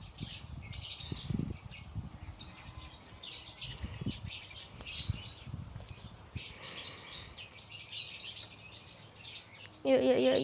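Birds chirping close by in the shooter game Critical Strike, with repeated high tweets scattered throughout, heard under and between low thumps and game noise, with people talking at points.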